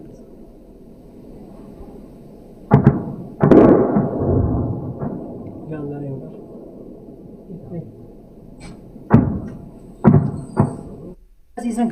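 Drones being shot down during a drone attack in the India–Pakistan conflict make several sharp, loud blasts spaced seconds apart, standing out over ongoing talk and background rumble.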